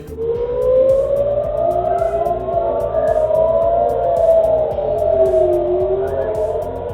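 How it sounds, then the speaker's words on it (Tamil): Civil defense warning siren sounding over Tel Aviv, Israel: a loud, continuous wailing tone that slowly rises and falls, steady throughout with no voices. "டெல் அவிவ் நகர் மக்களுக்கு சைரன் ஒளியை எழுப்பி இஸ்ரேல் ராணுவம் எச்சரிக்கை விடுத்துள்ளது"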